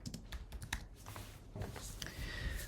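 Quiet, rapid typing on a computer keyboard, a run of light clicks and taps in close succession with brief pauses, no voices.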